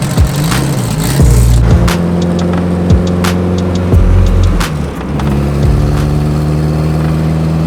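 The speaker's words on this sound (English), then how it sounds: "We are in the EG, we're driving over to the new garage." Car driving on a road, engine loud and close from inside, with repeated gear shifts and revs rising and falling, sharp clicks and knocks scattered throughout.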